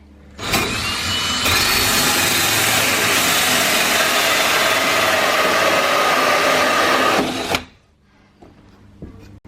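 A hole saw on a drill bores through an interior door, a loud, steady high-pitched whir that runs continuously for several seconds and then cuts off abruptly.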